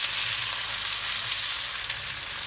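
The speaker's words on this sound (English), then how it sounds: "just put the meat straight in the pan and let it sear up on the outside" Seitan sears in melted salted butter in a pan, giving a steady, close hiss of frying that holds loud and even throughout, with no voices.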